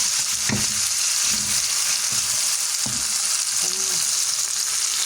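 Chillies and garlic sauté in a pan with a loud, constant frying sizzle throughout, broken by a few soft scrapes of a spoon against the metal.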